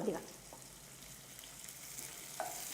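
Onions and coriander leaves sizzle steadily in a pan for a cauliflower fry, a continuous broadband hiss with brief scraping stirs near the start and end, fairly quiet and close, with no speech over it.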